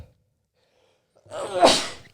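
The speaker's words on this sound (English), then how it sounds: "I don't want to sneeze." A single close sneeze bursts out after a second of near silence, a sharp breathy explosion followed by a quick click at the end.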